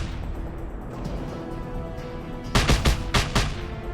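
Several loud gunshots from a weapon in Just Cause 2 fire in a quick cluster late on, sharp bursts over a steady background of game sound.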